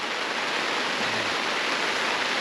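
Rain pours steadily onto a leaking tent on a high dirt road in Peru at about 15,000 feet, a loud, close, unbroken hiss of drops with no voices.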